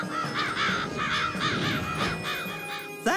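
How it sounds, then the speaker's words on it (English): Cartoon crows in a farmer's garden caw repeatedly in a fast, rhythmic series of loud, close harsh calls, ending with a sudden thump. "You even scared those pesky crows away."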